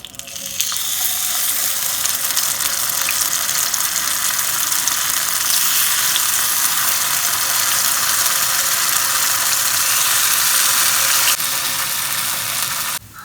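Rava paniyaram batter frying in hot oil in the hollows of a kuzhi paniyaram pan, a steady loud sizzle holding evenly for about twelve seconds with no talk.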